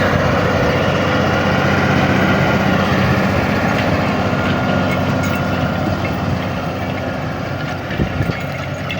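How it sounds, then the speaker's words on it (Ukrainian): A John Deere 6610 tractor pulling a SANIKA drag harrow across a field drones steadily and loudly nearby, with a low rumbling idle and faint clanking of the towed harrow, no talking. "Оце тракторець."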